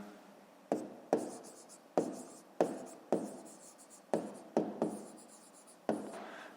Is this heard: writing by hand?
yes